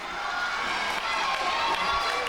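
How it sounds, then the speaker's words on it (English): A crowd cheers and yells at a high school wrestling match in a gym, a steady, excited roar with children's shouts rising through it, at a moderate distance. "You can hear the crowd get excited for Nick."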